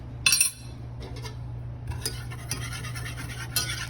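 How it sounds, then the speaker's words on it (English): A whisk scrapes and clinks against a medium saucepan while butter and flour cook into a roux over medium heat, with irregular metallic strokes and taps at close range, no talking. "add 3 tablespoons of flour and start whisking to make your roux"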